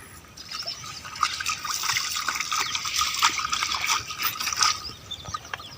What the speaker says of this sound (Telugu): ఎందుకంటే నీళ్ళు ఇటే ప్రవహిస్తున్నాయి కాబట్టి